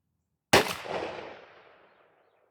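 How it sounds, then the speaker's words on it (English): A single Tristar 28-gauge shotgun blast firing a Winchester Longbeard TSS load: one sharp, loud report with a long ringing decay fading over about a second and a half, alone without voices. "So let's take our shot and see what we get."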